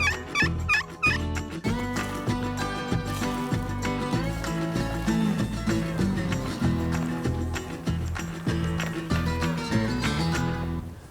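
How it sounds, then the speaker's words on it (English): A wild turkey gobbler gobbles near its roost in the woods on an April morning. Its calls repeat throughout, set against a dense, steady background of other sound. "We were hoping when we got to this point, we'd be hearing gobbles in there. And they're doing it."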